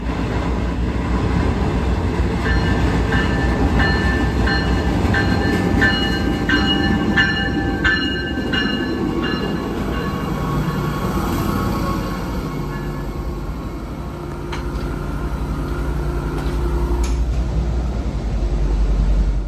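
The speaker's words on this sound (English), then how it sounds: "hearing the bells of an approaching River Line train" A River Line light rail train rolls past loudly with a steady rumble while its ringing bell sounds repeatedly over it, then fades as the rumble continues.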